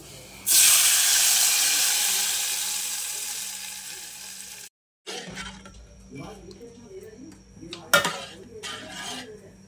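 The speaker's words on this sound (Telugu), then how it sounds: "వెల్లుల్లిపాయ రబ్బలు వేసుకొని తాలింపు అయితే పెడుతున్నా" A loud hiss of garlic cloves hitting hot tempering oil bursts out, fades gradually, then cuts off, followed by quieter clatter and a sharp clink.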